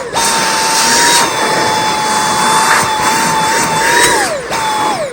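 Dyson V8 Extra cordless handheld vacuum cleaner running, a loud high-pitched motor whine with a steady whooshing airflow, the pitch dipping briefly near the end as the airflow is blocked, with no talk.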